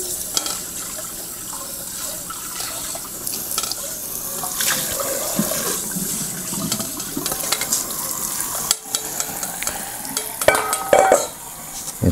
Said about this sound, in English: when you're done, drain the rice into your colander